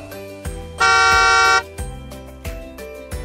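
A single sustained car horn honk, loud and steady for under a second, set against a bouncy children's nursery rhyme backing track with a regular beat.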